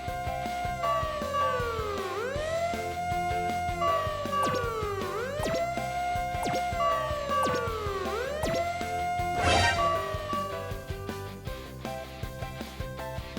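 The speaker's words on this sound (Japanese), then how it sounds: "Fire engine." A fire engine siren wails in repeated rising and falling sweeps, steady and clear over a soft musical backing, with a brief sharp burst near the end.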